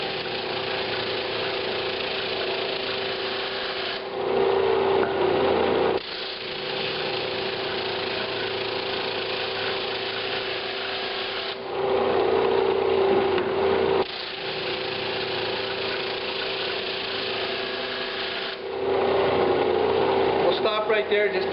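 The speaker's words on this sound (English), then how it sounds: "show you how we're going to sand that perfectly flat" A drum sander works across the end grain of a glued-up cutting board that came out of the glue-up with a big twist, a steady machine drone running throughout with louder bursts each time the board feeds through.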